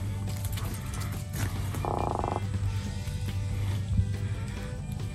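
A croaker fish caught while inshore fishing, giving one short, rapid croaking burst like a creaky ratchet, faint under wind and outdoor background noise.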